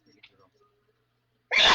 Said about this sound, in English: Oh my goodness, I'm going to sneeze again